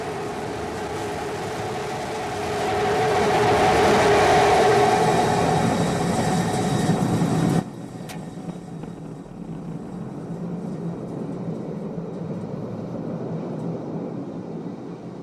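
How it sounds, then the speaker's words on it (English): The SpaceX Starship SN15 prototype's rocket engines fire during its landing burn, a steady, heavy roar that swells in the middle and then cuts abruptly to a quieter rumbling hiss. "We have ignition. Starship heading back to the landing zone."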